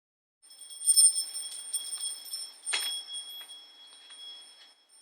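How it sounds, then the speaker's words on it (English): A bell rung once to open a community reading event, its bright ringing tone sustaining with a strong strike near the start and a second accent midway, decaying slowly through the rest with no talk. "So let's ring the bell."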